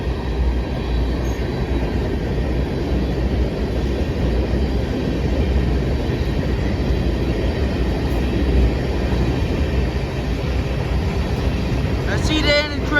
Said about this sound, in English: I see the end of the train already